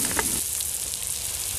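Salmon sizzles steadily on a hot stone set over coals, a constant bright crackling hiss with a brief louder spatter at the start, no voices.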